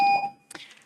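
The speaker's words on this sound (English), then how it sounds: "When the buzzer's going, no one can hear you." A short electronic buzzer beep sounds in a town council meeting room, a loud tone lasting about a quarter second before cutting off, followed by a faint brief clatter.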